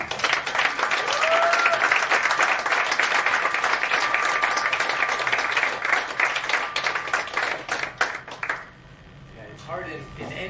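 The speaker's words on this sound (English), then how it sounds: "let's give Dr. Smita Naram a big round of applause." An audience at a talk breaks into sustained applause, dense steady clapping for about eight seconds that then thins and fades out, followed by quieter room sound.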